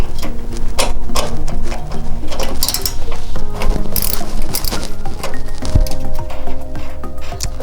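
A wrench works on the exhaust nuts and bolts of a Subaru WRX with an exhaust leak. Close, loud ratcheting clicks and metallic clinks come in quick, uneven bursts, with occasional sharper knocks.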